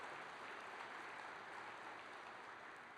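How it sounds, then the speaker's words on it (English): A hall audience at the Ohio Farm Bureau's 2023 annual meeting applauds county farm bureaus, a soft, even wash of clapping that holds steady throughout, distant and without voices. "Let's again give a round of applause to these county farm bureaus"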